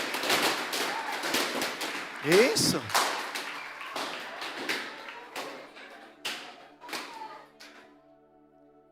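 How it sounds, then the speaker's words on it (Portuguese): Balloons popping and a congregation clapping in a Brazilian church service, with a dense burst of sharp pops and claps that thins out toward the end while voices carry on over it. "E eu quero que vocês aplaudam Jesus, estourem as bexigas,"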